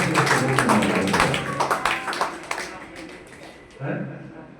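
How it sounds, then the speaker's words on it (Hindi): Students in a coaching class clap for a classmate's weekly test result, a short close burst of uneven claps over talk that thins out and stops. "भैया के लिए जोरदार तालियां"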